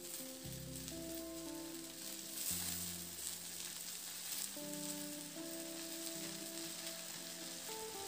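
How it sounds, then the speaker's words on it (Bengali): Chopped water spinach (kalmi shak) hits hot oil with frying lentils in a pan, setting off a steady, loud sizzle and crackle that swells as the greens go in and keeps going under faint stirring. "এরপর এই পর্যায়ে আমি কেটে রাখা শাকগুলোকে অ্যাড করে দেব।"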